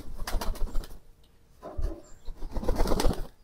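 Domestic pigeons kept in a home loft coo and flutter in short bursts, with wing flaps and soft calls rising and falling close by, separated by a brief quiet gap.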